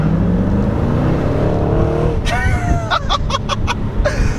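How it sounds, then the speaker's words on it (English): A 2011 Jaguar XKR accelerating hard in second gear, the engine note climbing steadily under loud cabin rumble, then rapid bursts and crackles as it shifts near the end. "maybe one last little acceleration. Let's do second gear, because I know I'm not gonna get traction"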